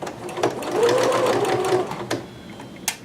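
A sewing machine stitches kimono fabric in a steady close whir lasting a couple of seconds, with brief clicks before and after as the fabric is turned.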